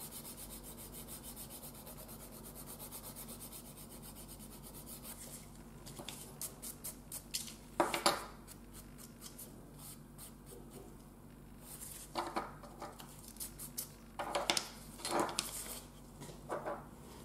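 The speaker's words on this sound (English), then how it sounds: "This needs to be just very soft filing, no pressure." A natural fingernail is filed softly with light pressure, giving quiet, intermittent rasping strokes in short bursts against a low, faint background.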